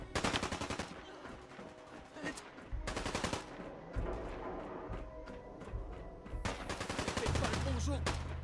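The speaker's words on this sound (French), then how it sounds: "Je sais pas d'où ça tire, mais ça tire." Gunfire in the video game Fallout 4, rapid automatic bursts separated by short gaps, loud and dense, with other game sounds underneath.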